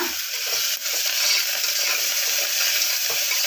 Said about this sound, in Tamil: இந்த எண்ணெயிலே நல்லா வதக்கிடும்